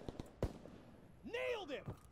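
Gunfire in Call of Duty: WWII, a few sharp isolated shots and one strong blast, followed by a rising and falling whistling or screeching sweep, moderately quiet with game voices and shouting around it.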